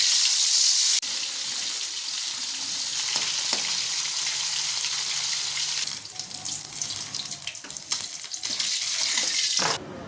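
Tilapia pieces fry in hot oil in a wok with a loud, steady hiss and crackle. Spitting bursts rise as more fish goes in. No one speaks.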